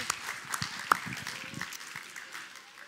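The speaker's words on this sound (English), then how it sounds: "one more round of applause for Joseph and Mary over here" A church audience claps for a children's Christmas performance. The applause is moderate and steady, a diffuse patter of many hands heard from a distance that fades gradually over a few seconds.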